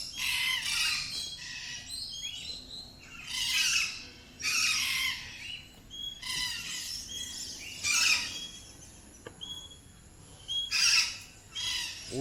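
Birds in an aviary at Bird Paradise Singapore give loud, harsh squawks in repeated bursts, some close and some farther off, with short pauses between the calls.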